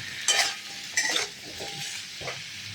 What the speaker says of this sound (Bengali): একটু লবণ দিয়ে দিলাম। একটু ভালো করে নাড়াচাড়া করে নেব।